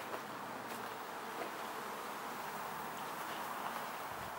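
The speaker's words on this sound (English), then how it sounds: "a lot of bees coming out for their orientation flight" Many honeybees fly out of their hives on an orientation flight, a dense, steady buzzing hum that fills the air evenly and stays fairly quiet, with no talking.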